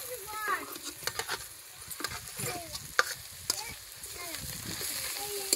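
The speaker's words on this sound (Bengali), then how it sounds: "কড়াতে পেঁয়াজ কুচি, ধনেপাতা কুচি, আদা বাটা, লঙ্কা বাটা আর মটরশুঁটি মাখা দিয়ে আমি পুরটা করে নেব।" Onion, coriander, ginger paste, chilli paste and mashed peas stirred in hot oil in a wok for a kachori filling, with scraping spoon strokes over a steady crackling sizzle, close and moderately loud.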